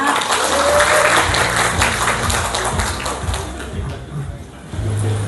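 Audience at a Gwangju startup forum applauding to welcome an LG U+ team leader before his talk on AI senior healthcare, sustained clapping that thins briefly near the end, with a voice heard over it.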